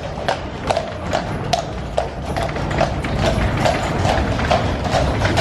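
Horses' hooves clip-clop on a street in Bruges, Belgium, a loud, close, steady trotting rhythm of sharp knocks over a busy outdoor background.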